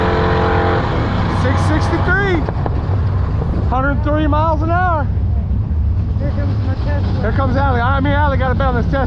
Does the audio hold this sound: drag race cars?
yes